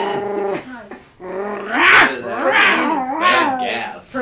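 A man imitates a dog being killed, making strained, wavering yelps and growling whines. The cries come close and loud in several drawn-out bursts over about four seconds.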